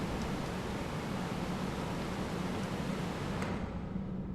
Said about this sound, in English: When I walk in, you'll hear the wind get a low-pass filter.